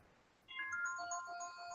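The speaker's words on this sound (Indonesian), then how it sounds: "Oke, sebentar ya, ada telepon dari Mas Ajat." A phone ringtone for an incoming call goes off during a thesis briefing meeting: a bright melodic series of electronic tones starts about half a second in and keeps playing fairly loudly and close, with no talking over it.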